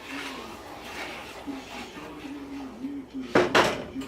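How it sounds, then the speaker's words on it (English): Metal clinks and scrapes against a pot as something is stirred, ending with a couple of louder clanks; a voice murmurs in the background. "Let me stir this up."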